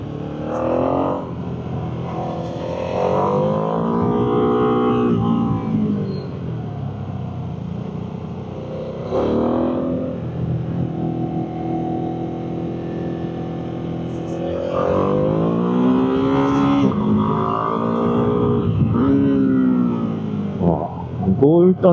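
A 2025 Ducati Streetfighter V2 S motorcycle on a test ride in Spain downshifts repeatedly, the engine note dropping and rising in pitch through a series of loud, close rev swings with a steady wind-blown rumble underneath.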